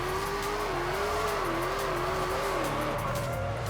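A massive truck drives in Forza Horizon 5 with a steady, droning engine note that rises and dips slightly, plus a faint tire hiss underneath, continuous and close.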